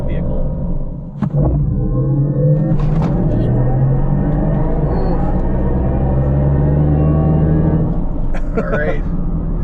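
A 2022 Mercedes-AMG EQS electric luxury sedan launches from a standstill with a deep rumble and a whine that climbs steadily in pitch for several seconds. Voices talk over it.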